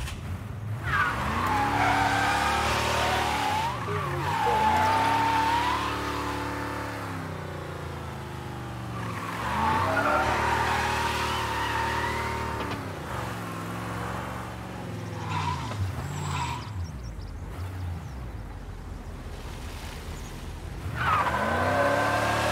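A car in the video game Mafia: Definitive Edition drives hard with a loud, continuous engine roar, repeated tire squeals and skids rising and falling in waves, and no voices.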